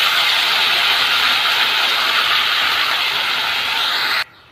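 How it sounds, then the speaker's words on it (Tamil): Chopped banana stem sautés in a pan with garlic and chilli, a loud, constant, close frying hiss that stops abruptly near the end. "இந்த வாழைத்தண்டை போட்டு நல்லா வதக்கிடணும்"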